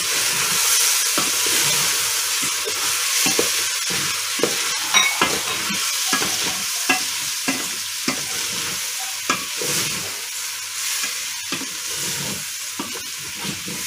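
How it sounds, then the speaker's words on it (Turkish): Rice pilaf with vermicelli is stirred in a pot, giving repeated scraping, rustling strokes at a loose, irregular rhythm over a steady sizzling hiss, close up and with no talking. "Pilav böyle karıştırır."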